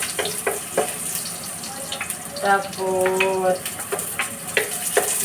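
Garlic goes into a frying pan and is stirred while cooking halaan (clams), a soft wet sizzle with scraping clinks and clatter, close by, with a brief voice speaking over it.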